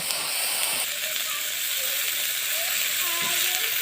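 Beef pieces frying in a small amount of mustard oil for a mashed beef dish, giving a steady loud hiss and sizzle that fills the whole clip, with faint voice traces underneath.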